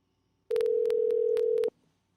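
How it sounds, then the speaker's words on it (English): A single steady telephone tone sounds clean and alone for about a second, with quick dialing beeps layered over it while a call is being placed. "I'm gonna call her right now."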